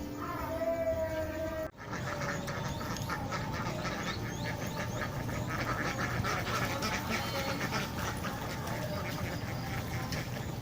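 Egg-laying ducks on a duck farm quack continuously, a dense overlapping chorus of many birds close by, steady and loud throughout.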